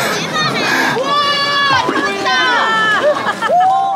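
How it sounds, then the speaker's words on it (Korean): Excited shouts and cheers rise from a crowd at a mountain trout ice-fishing festival in Hwacheon, with children's high voices and overlapping chatter throughout, loud and close. "이때 한쪽에서 들려오는 환호성 소리"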